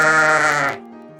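A sheep gives a single loud, close bleat that cuts off abruptly and is followed by a faint, quiet tail.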